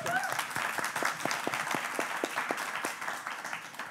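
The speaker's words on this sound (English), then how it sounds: "let's give them a warm round of applause for welcoming them" Audience applause welcoming the hosts of a panel talk on private funding and biennials, steady mid-level clapping from a modest crowd with distinct individual claps audible throughout.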